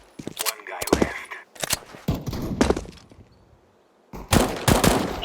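Bursts of gunfire ring out in a Counter-Strike 2 match, several sharp volleys separated by short pauses, loud and close, with game sounds and a brief lull between the shots.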